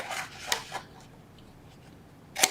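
Scissors cut paper along a score line while a box is being made, giving a few quick, close snips and rasping rubs followed by a brief pause, then one more cut.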